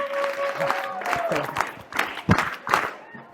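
A crowd at a Marathi school event gives scattered, uneven clapping for students, with several sharper individual claps standing out near the end as the applause thins and fades.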